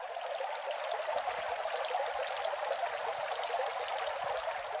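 A small river flows across farm property with fields, woodland and birch forest. It makes a continuous, close babbling rush of water that holds steady with no voices.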